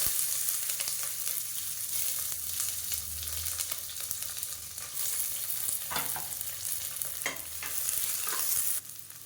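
Onions sautéing in a pan with a cardamom pod while cooking a diabetic samba wheat porridge, giving a steady, fairly loud sizzle with scattered spoon scrapes and clicks throughout.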